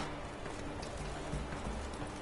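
Quiet rhythmic hoofbeats of the horse Roach galloping in The Witcher 3, a steady clip-clop pattern over a faint ambient bed.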